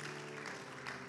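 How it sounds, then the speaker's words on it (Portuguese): A church congregation gives brief, faint applause during a worship service, scattered clapping over a sustained low musical drone. "pode aplaudir"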